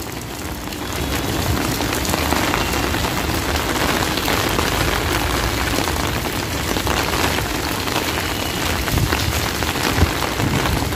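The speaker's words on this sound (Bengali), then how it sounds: "প্রচুর জবরদস্ত বৃষ্টি হচ্ছে" Heavy rain pours steadily over an emptied market in Puri, a dense, loud, unbroken hiss of drops hammering surfaces that lasts the whole stretch with no voices over it.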